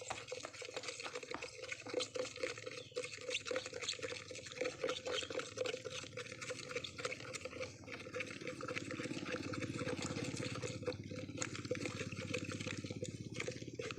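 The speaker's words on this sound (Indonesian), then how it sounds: "Agen Hayatinya saya aduk dulu." Biological agent powder being stirred into water, a steady swishing, sloshing churn that runs continuously and close, with faint mechanical clatter mixed in.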